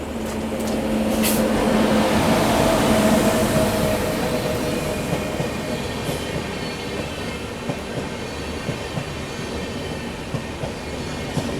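Avadh Assam Express passenger train, Dibrugarh to Lalgarh, rolling past on the line in India with a loud, steady rumble of wheels and carriages and faint rail squeal, close and continuous throughout.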